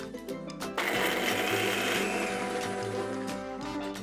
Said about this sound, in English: Time to grind cashew nuts.